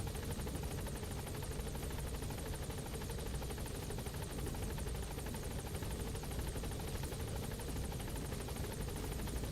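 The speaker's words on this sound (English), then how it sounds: "So I figured I could just take a helicopter." A helicopter in Metal Gear Solid V gives a constant close whirring rotor drone with a fast chop, loud and unbroken from start to finish.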